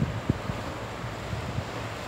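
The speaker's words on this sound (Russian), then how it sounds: "только ветер и тучи" Low wind noise rumbles steadily across the microphone on a mid-September day in Roseto, Italy, with a few soft gusty buffets and no voices.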